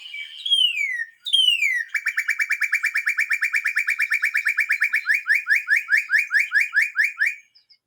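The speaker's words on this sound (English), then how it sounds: "our last bird, which is the northern cardinal" A recorded northern cardinal sings loud and clear, starting with two long downslurred whistles, then a fast even run of short chip-like notes that slows into spaced slurred notes before it stops.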